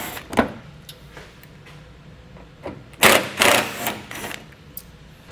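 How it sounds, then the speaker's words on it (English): A T15 Torx driver backing out fasteners under a vehicle's rear fascia panel, brief whirring power-driver bursts, a short one early and a louder cluster in the middle, close by without speech. "We'll use our T15 Torx to remove these."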